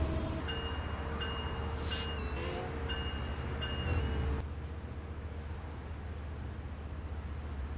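Train Sim World 5 passenger train cruising at about 80 mph, a steady rumbling drone of motors and rails with faint electrical whine and brief high tones early on, continuous and fairly quiet throughout.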